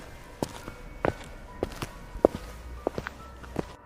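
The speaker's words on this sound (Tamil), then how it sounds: "ஆளுங்க நடக்கிற சத்தம்" Footsteps of people walking, with scattered soft thuds and scuffs at an uneven pace, fairly faint against quiet room tone and with no one talking.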